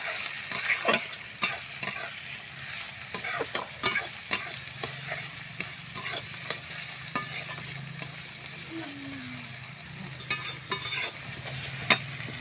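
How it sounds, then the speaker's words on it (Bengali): Onions frying in a pan with a steady sizzle, broken by irregular sharp clicks and scrapes as a spatula stirs them, heard close up with no talking. "পেঁয়াজটা লাল লাল করে ভাজবো।"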